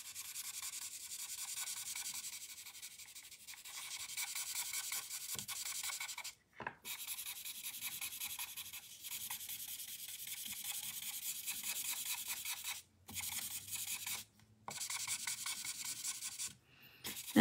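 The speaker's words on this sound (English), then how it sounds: "Michelle, plug your ears because I'm about to use the chisel nib." Chisel-nib marker scratching across paper while colouring, a steady close-up rubbing hiss in long strokes with a few brief pauses between passes.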